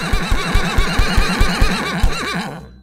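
A horse in a Minecraft-like game gives a loud, close, quavering whinny, its pulsing rhythm running for over two seconds before it cuts off abruptly.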